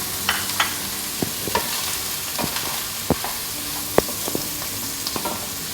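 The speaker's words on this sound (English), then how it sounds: "As the bacon is starting to brown, I'm going to add the mushrooms to the pan." Bacon and mushrooms fry in a pan with a constant low sizzle, punctuated by sharp, irregular scrapes and knocks of a utensil stirring them, close and clear with no talking.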